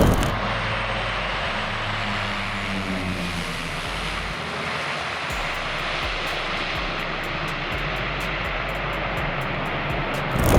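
A Piper P-31T Cheyenne turboprop plane engine roars steadily and loudly for the whole stretch, a constant thrumming drone with a propeller whine.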